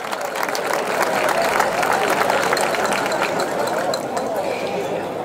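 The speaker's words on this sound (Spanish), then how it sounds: "Un fuerte aplauso para todos." An audience at a folklore evening in Villarrubia applauds, with a dense, steady wash of many hands clapping that keeps going for several seconds at an even, fairly loud level.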